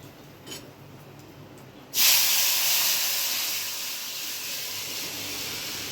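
Dry red chillies, mustard seeds, curry leaves and asafoetida hit hot oil with a sudden loud hiss after a quiet start, then settle into a strong, steady sizzle that slowly eases, close up and without talk.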